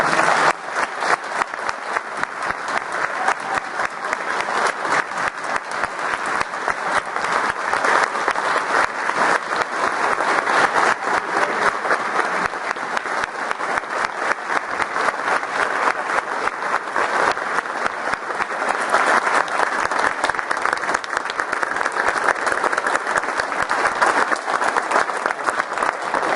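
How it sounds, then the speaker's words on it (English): Sustained applause from a large crowd, steady and loud, clapping continuously without pause for the whole stretch. "So if we could get them all a round of applause."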